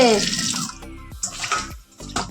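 A household water tap runs in a Bengali home, a short gush of splashing flow that breaks into uneven bursts and trickles, with a voice speaking over it.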